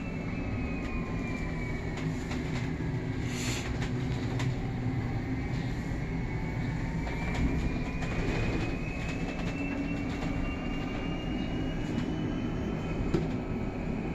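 Hanau E1 electric city bus driving, heard from inside: a steady rolling rumble with a faint rising and falling electric motor whine, continuous and fairly loud throughout, with no talking.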